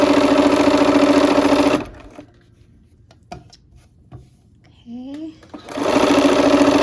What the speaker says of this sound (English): let's go ahead and sew those up. Okay, here we are at the machine